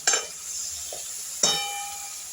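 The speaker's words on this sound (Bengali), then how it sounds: "আমি একটু ঝেঁটে দিচ্ছি, মশলাটা কষবে।" Spice masala fries with a steady sizzle in a pan for a fish-head curry with chitol, broken by two sharp scrapes of a spoon stirring it, close and alone.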